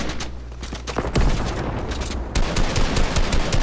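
Loud, dense gunfire rattles through a squad match in a shooter game, rapid overlapping bursts with heavier volleys kicking in partway through.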